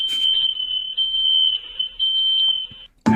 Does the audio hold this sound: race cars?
no